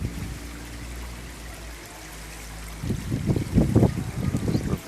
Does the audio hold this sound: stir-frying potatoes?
no